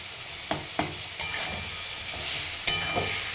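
Spices with tomato and green chili, plus a little atta, stir-fried in a pan for multigrain khichuri, a steady sizzle broken by several sharp scrapes of a spoon against the pan, close and without voices.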